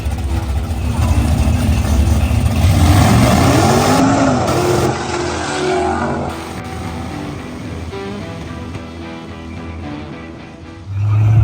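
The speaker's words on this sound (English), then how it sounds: "Got a couple buggies pulling up here, get them lined up, send them down the track." Dirt drag racing buggies launch down the track, a loud rough engine roar swelling and revving before fading into the distance, with crowd and speech noise mixed underneath.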